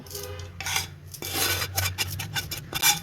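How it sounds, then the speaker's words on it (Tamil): Masala stirred into onions in a metal pan, scraping and clinking of a spoon against the pan in uneven bursts with short pauses, close and fairly loud, no talk. "நம்ம வதக்கி வச்சுருக்க இந்த மசாலாவையும் இதில் சேர்த்துருவோம்"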